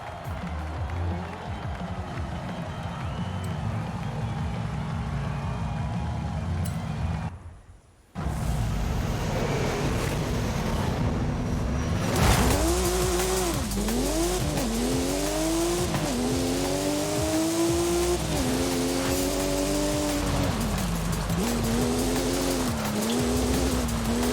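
A Porsche driven in Forza Horizon 5, its engine revving and shifting through rising and falling pitch sweeps with tire noise, loud and steady after a brief dropout around eight seconds.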